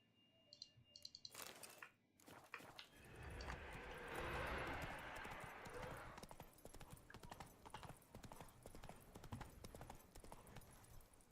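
Horse hooves clip-clopping at a gallop in Witcher 3: Blood and Wine, a quick steady rhythm of hoofbeats with a brief snort early on, close and continuous.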